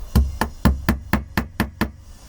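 Eight sharp hammer strikes, using the thin end of the hammer head, on a nail going into a wooden frame, evenly paced and close, each a crisp woody knock with a short ring.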